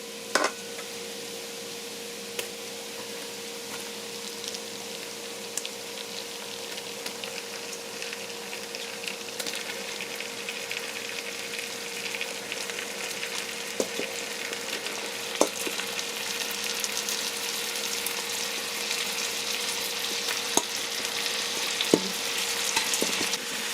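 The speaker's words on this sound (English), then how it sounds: "you're going to hear that loud sizzle when the shrimp touches that butter" Seasoned shrimp sizzle steadily in melted butter for garlic shrimp, a continuous close crackling fry with scattered pops and no talking.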